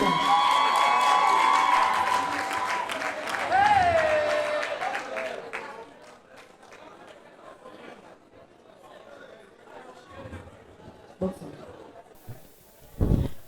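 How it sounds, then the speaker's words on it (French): Crowd applause and cheering for a pageant contestant at a Gabonese beauty pageant, loud at first with music and a host's voice over it, then fading to scattered claps and murmurs. "Candidate numéro 8, sous vos applaudissements"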